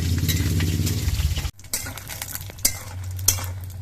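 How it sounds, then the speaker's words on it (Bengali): Lentil dumplings (dal bori) fry in hot mustard oil in a pan, a sizzling hiss with a low steady hum underneath, punctuated by stirring scrapes and a few sharp knocks of a utensil. "ডালাই বড়ি অল্প সময়ের মধ্যেই ভাজা হয়ে যাবে"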